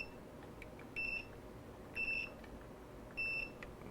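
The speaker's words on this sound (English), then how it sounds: "if there's a conductor between the two probes, it should also beep" A multimeter's continuity tester beeps three short times in a steady rhythm as its probes touch soldered wire joints on a 3D-printed Auduino synth build, clear over quiet room hiss.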